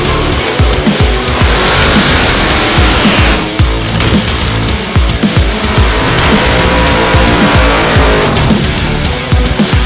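Drag cars at a drag racing festival, a loud, dense engine roar with rapid crackling bursts and a rising, sustained howl filling the whole stretch.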